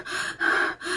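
A voice imitates the strained, repeated gasping for air of someone in a severe asthma attack: three sharp, raspy breath sounds in close succession, near and fairly loud, with no speech.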